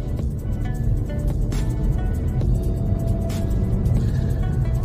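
A Honda Civic hybrid climbing a hill, its steady low engine and road rumble filling the cabin continuously at a loud, even level with no talk.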